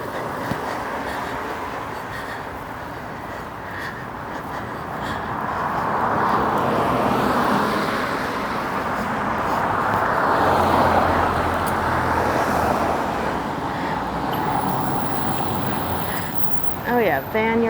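A van passing along Portland Street on a June day, its engine and tyre noise swelling and fading within steady street traffic, heard from the roadside over a continuous urban rumble.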